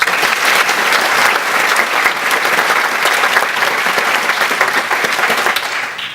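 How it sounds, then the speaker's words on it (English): An audience at a live talk claps a warm round of applause, with dense, steady clapping that stays loud and even throughout before easing slightly at the very end. "So please give him a round of applause."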